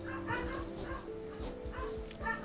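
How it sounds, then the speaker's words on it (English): Dogs indoors give short repeated whimpering yips and barks in quick bursts, faint and somewhat muffled in the room. "Silence, dogs!"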